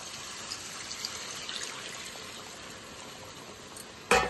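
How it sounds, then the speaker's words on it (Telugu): Tamarind juice pours into a korameenu fish curry in a kadai, a soft steady wash of liquid and gentle bubbling, close but quiet, ending in a sudden louder splash. "ఇప్పుడు మనం చింతపండు పులుసు వేసుకుందాము"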